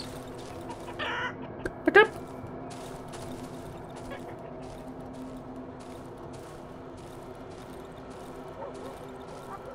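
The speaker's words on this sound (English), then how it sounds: "Look at all these chickens." Chickens cluck softly among ambient game sounds in the horror video game Darkwood, with a brief louder squawk near the start, all over a steady low background drone.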